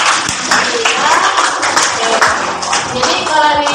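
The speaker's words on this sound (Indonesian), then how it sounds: "Oke, tepuk tangan buat." A classroom of students clapping together, steady dense claps for about four seconds with a few voices mixed in.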